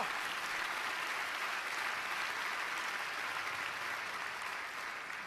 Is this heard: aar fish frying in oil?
no